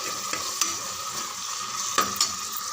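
Tomatoes sauté in a pan with a bright, continuous sizzle, broken by a few sharp clicks of a spoon against the metal as they are stirred.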